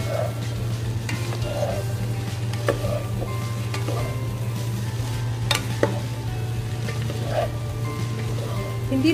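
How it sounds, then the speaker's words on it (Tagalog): White cabbage fries in a pan over high heat, giving off a constant sizzle with scattered stirring clicks and scrapes. "So, haluin lang natin ito."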